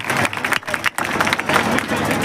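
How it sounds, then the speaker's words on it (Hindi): Applause at a block-level sports and cultural event: close, dense clapping with brief breaks, under someone talking. "मैं आपको ताली बजा रहा हूं"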